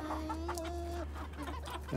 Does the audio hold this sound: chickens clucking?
yes